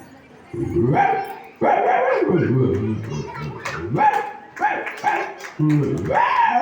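A mimic imitates a barking dog, letting out a series of about six loud, close, gruff barks and yelps in an uneven rhythm, with nothing else in the background.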